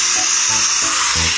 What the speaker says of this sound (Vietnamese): nhiều khúc cây đâm ra quá nên phải lấy máy cắt mình cắt nha